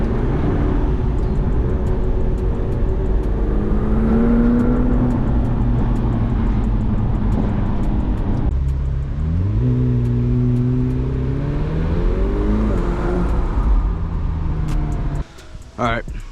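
A McLaren 750S supercar with the windows down, its engine accelerating and revving through rising and falling pitches, close and loud, with a voice talking over it.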